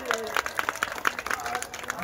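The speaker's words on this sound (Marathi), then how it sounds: "म्हणून या तिन्ही मृदुंगाचार्यासाठी एकदा जोरदार टाळ्या होऊ" An audience at a kirtan gives uneven, moderately loud clapping for three mridangam and pakhawaj players, with a crowd murmur and a voice talking underneath.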